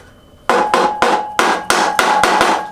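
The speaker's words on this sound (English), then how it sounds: "tap the socket on there." A hammer taps a socket onto rusty bolts of a Villiers MK12 stationary engine, seven sharp metallic strikes in an uneven rhythm, close and loud with ringing decay.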